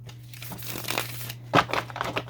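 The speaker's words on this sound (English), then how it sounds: "Let's shuffle a couple times, Cancer." Tarot cards are shuffled by hand, a few soft crinkly riffles building to a sharper burst over a low steady hum, with no voice heard.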